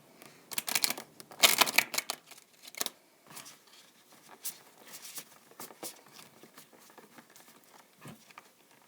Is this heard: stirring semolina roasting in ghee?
no